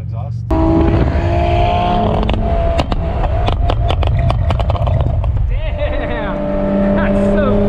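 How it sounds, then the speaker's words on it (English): Nissan 370Z fitted with an HKS exhaust gives a loud, deep rumble that rises and falls as it drives past close by, with people talking over the engine noise. "Yeah, it's an authentic HKS exhaust."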